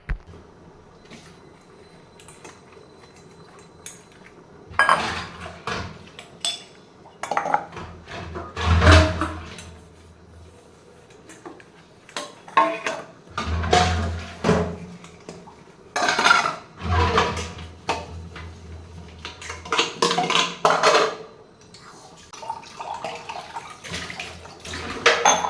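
Dishes, pots and pans get washed with water, with clattering metal knocks and clinks, splashing bursts and running water in irregular close spurts between quieter gaps.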